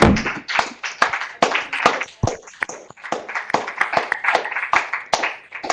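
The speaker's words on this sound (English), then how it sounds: "A big clap, please, for your time." Audience clapping at the close of an online lecture, a sparse burst of individual claps of mixed loudness, some close and sharp, spread unevenly across the whole stretch with no voices over it.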